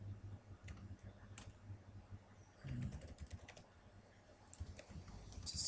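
Typing on a computer keyboard, a run of soft, irregular key clicks at close range with faint background hum and no talk.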